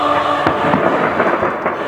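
Fireworks burst for the New Year at a church service, with sharp cracks and booms over a rumbling background. The bursts are loud and close, arriving in quick irregular succession.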